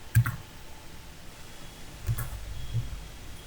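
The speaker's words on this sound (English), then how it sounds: "So I type reboot." Light clicking keystrokes on a computer keyboard entering a reboot command in a Fedora Workstation virtual machine, a few soft, close taps spaced apart against quiet room noise.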